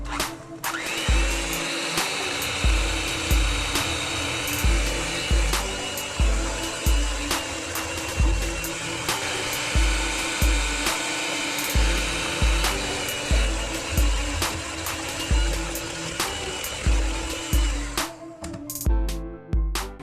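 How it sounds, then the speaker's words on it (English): An electric stand mixer runs steadily, beating fat, sugar and egg yolks for an Italian cream cake, with regular rhythmic thumps and a continuous motor whir; no talking. "I am going to add these one at a time while the mixer's running and let them fully incorporate before adding the next."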